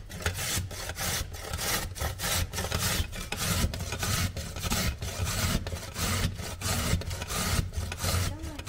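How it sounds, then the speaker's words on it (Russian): Beetroot being grated on a coarse grater for soup, a loud rhythmic rasping of quick back-and-forth strokes repeating steadily and close up. "Я натираю на крупной терке."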